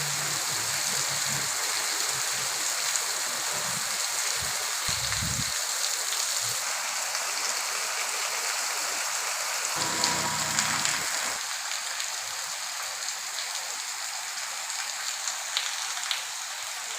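Light rain falls outdoors as a soft, steady hiss that stays even throughout, with faint low bumps and a brief duller patch partway through.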